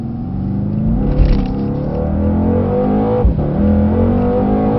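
A Mercedes C63 S on Continental tyres accelerates under full power, its engine note loud and steady with a rising roar through the run and brief surges near the start and middle.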